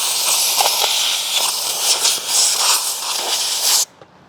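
Compressed air blasts steadily through a Husqvarna, Redmax or Poulan hedge trimmer, a loud, continuous close hiss with slight surges that cuts off abruptly near the end.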